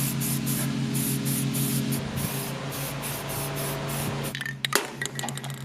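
Short bursts of spray paint hit van brake dust shields in a rapid hissing rhythm that breaks off near the end, close up and with no talk.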